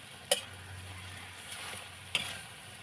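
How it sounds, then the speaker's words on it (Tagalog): Pork menudo stirred in a cooking pan, a soft simmering hiss under two distinct scraping strokes of the spoon against the pan, spaced about two seconds apart. "kailangan natin siyang haluin ng haluin"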